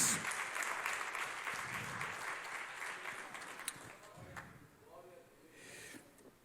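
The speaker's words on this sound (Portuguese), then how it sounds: "Você pode aplaudir" A church congregation applauds during a sermon, a fairly quiet but busy patter of many hands that thins out and fades toward the end, with faint voices mixing in as it dies away.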